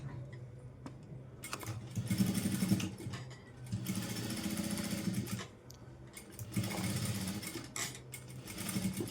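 Sewing machine stitching blouse fabric, running in several sustained whirring bursts with brief pauses between them, close and moderately loud, with no speech.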